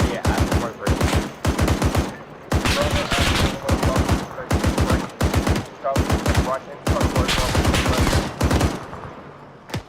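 Repeated close machine gun bursts in the ARMA 3 military shooter, rapid rattling volleys that stop and start across the whole stretch, loud and dense with brief pauses between strings of shots.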